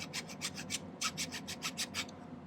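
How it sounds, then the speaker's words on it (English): A metal file rasps against the inside of silver earring prongs in about a dozen quick, evenly spaced strokes, close and clear, stopping just before the end. "I'm doing a little bit of filing on the inside"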